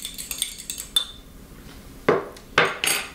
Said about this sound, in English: I'm just going to beat an egg